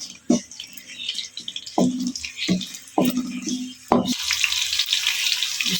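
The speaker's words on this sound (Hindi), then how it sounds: "मैंने चूल्हा जला के प्याज रख दिया, ब्राउन होने के लिए" Onions frying in a pan for masala kaddu, a soft steady sizzle broken by several sharp clinks and scrapes of stirring, close by and moderately quiet.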